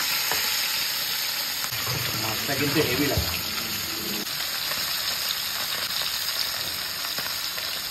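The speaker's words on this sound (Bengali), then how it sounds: "একদম ছাকা ছাকা তেলে কালবাউস মাছ হচ্ছে ভাজা" Kalbaus fish, seasoned with turmeric and salt, frying in deep hot oil, a steady broadband sizzle that runs through the whole stretch, with someone speaking briefly over it partway through.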